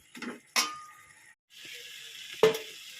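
Bottle gourd greens with lentil dumplings stirred in a pan, heard as a few close, brief scraping and clattering strokes separated by quiet gaps, with a faint sizzle between them.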